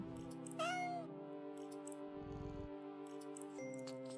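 Cats in a video game meow once, loudly and with a rising whine, then a soft steady munching of fish continues under a faint ambient drone, with no speech.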